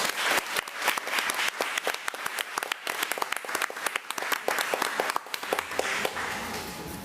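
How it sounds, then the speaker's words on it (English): A room of school board meeting attendees breaks into sustained applause for school administrators, loud and dense clapping that carries on for several seconds before tapering off. "Let's give them another round of applause."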